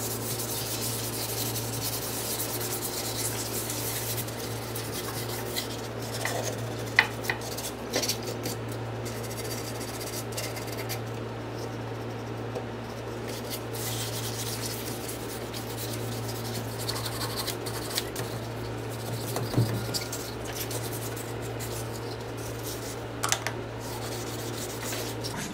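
Sandpaper scrubs a bathroom washbasin around the faucet in a continuous rough scraping, steady and close, with occasional sharper scratches and a low hum underneath.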